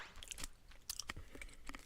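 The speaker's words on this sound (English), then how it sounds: "you gotta hear that crunch" Crunchy oat cookie bitten and chewed close to the microphone, a run of sharp crackling crunches in irregular rhythm over about two seconds, loud and without speech.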